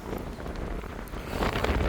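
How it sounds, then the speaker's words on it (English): Gusty wind buffets the microphone outdoors beside a truck build, a loud, continuous low rumble with swelling gusts and no speech. "It's windy out here."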